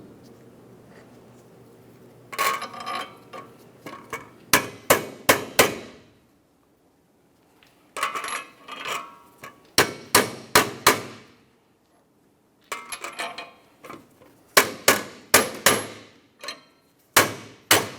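Metal hammer blows driving splined wheel studs into the rear backing plate of a 1994-2002 Ram 2500, loud sharp clanging strikes in quick bursts of several hits separated by short pauses.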